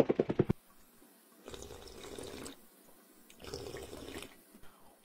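Water runs from a school tap in two separate bursts of splashing flow, each about a second long, after a quick series of short knocks at the start; fairly quiet and with no talk.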